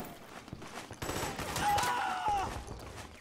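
Suppressing fire in Metal Gear Solid 4, a rapid burst of rattling automatic gunfire rising in the middle of the moment, fairly quiet under a busy game soundscape.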